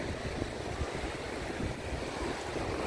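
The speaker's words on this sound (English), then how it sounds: "Here's the ocean." Steady broadband rush of ocean surf along a lake-shore beach in Rochester, Ontario, at evening, continuous and fairly loud with some wind buffeting on the microphone and no voices.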